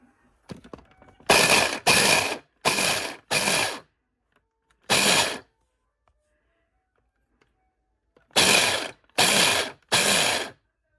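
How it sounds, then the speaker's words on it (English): A food processor roughly chops onion and garlic in eight short, loud pulses, each about half a second long, grouped in bursts with silent gaps between them. "So I'm gonna roughly just chop it in the food processor"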